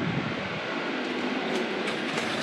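Steady broadband whooshing drone of a large greenhouse fan, continuous and fairly loud with a slight rumble, no voices.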